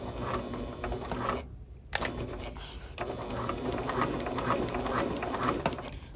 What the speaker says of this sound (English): So I'm sewing really close to the edge here without sewing off the edge.